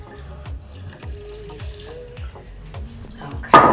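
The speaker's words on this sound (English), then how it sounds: "my liquor don't want to pour" Imported tequila poured into a cocktail shaker over ice gives a trickling liquid pour with sharp clinks and knocks of ice, then a loud burst of rattling and splashing at the end.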